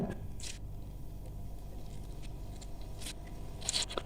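Soaked bread is squeezed by hand to press out the water, giving a few soft, wet squishing bursts against quiet background hiss, close and faint with no talk.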